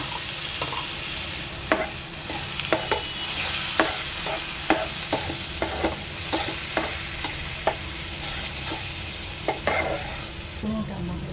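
Spoon stirring liver curry with curd, chili powder and garam masala in a pan, a steady sizzle under regular scraping strokes roughly every second, close and moderately loud, with no talking.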